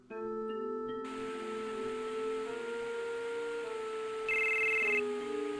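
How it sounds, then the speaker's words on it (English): A cell phone rings inside the Final Fantasy VII video game, a steady electronic ringing pattern over a sustained tonal game music backdrop, with a brighter high tone joining briefly near the end. "Oh hey, it's the cell phone."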